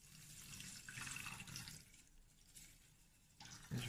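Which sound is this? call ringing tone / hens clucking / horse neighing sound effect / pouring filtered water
pouring filtered water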